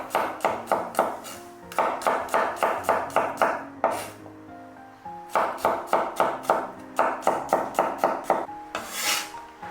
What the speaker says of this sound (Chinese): 一把蒜子也切蒜片